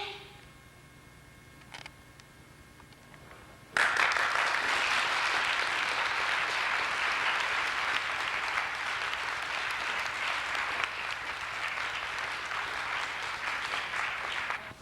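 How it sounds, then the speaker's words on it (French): Loud, sustained applause from a theatre audience at a French drama festival in Richardson Hall, San Francisco, erupts suddenly after a few seconds of quiet room tone and continues as dense, steady clapping to the end. "Quincy Koppel, on applaudit."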